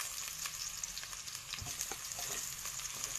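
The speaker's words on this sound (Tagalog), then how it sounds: "gisa-gisa lang natin yan guys" Garlic and onion sauté in a pan for sinigang sa miso with salmon head, giving a continuous close, crackling sizzle with faint stirring clicks and no talk.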